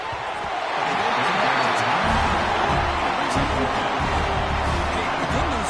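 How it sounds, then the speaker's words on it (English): A college football stadium crowd roars steadily during a red zone defensive stand, a dense wash of cheering and noise from many people that swells and holds throughout. "here comes the noise. This crowd is trying to inspire this defense to make a big red zone stop."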